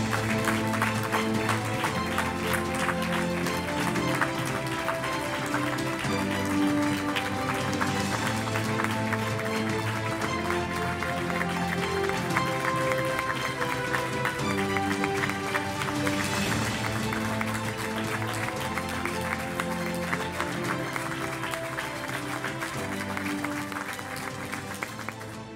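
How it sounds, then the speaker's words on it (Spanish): Audience applause at an award ceremony as a flag-bearer collects an honour, sustained clapping under loud music with a steady beat that plays throughout at an even level. "Un fuerte aplauso."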